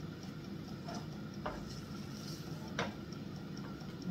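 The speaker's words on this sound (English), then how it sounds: "And then just broke the yolk and moved them around a little bit" Two eggs being stirred in a small frying pan give faint, soft scraping and light ticking taps of a utensil against the pan, with a quiet sizzle underneath and a couple of slightly sharper clinks.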